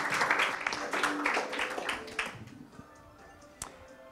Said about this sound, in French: je vous prie, et chers membres du jury, d'applaudir et d'encourager Benoît Pérez-Lamarque